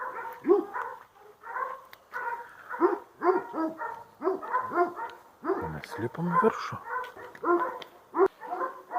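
A dog barks and yips repeatedly in short bursts nearby in Croatia after rain, while a person talks over the barking throughout.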